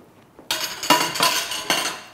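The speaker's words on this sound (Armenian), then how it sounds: "Վերցնում ենք մեծ թավան" A large metal frying pan is lifted and set down in a kitchen, giving a sudden clatter followed by several ringing metallic knocks and scrapes, close and fairly loud.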